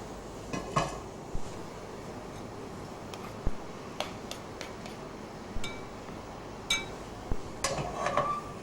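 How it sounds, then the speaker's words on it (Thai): A utensil stirs pork and fried seasoning paste in a pan, with scattered clinks and scrapes of metal against the pan over a steady low background. "แล้วก็คนให้เข้ากันนะคะ"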